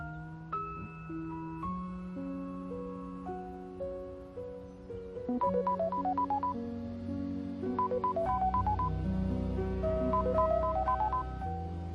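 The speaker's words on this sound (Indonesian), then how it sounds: "Telepon dari siapa?" A telephone ringtone plays as a melodic electronic tune of repeated tonal notes over about twelve seconds, moderately loud, in an Indonesian television drama scene, with no voices.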